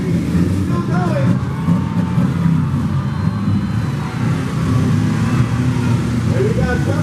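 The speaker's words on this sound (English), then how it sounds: "We've still got a lot of cars left running out there." Demolition derby cars at Los Banos, California, including Hondas, a BMW, a Mercedes and vans, keep their engines running as a continuous loud rumble with revving, while an announcer talks throughout.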